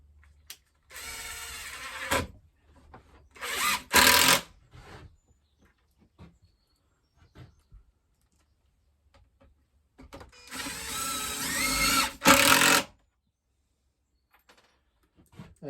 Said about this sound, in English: So I'm going to start screwing these in.